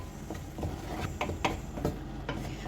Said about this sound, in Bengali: ভালো করে মশলাটি মিশিয়ে কষিয়ে নিতে হবে।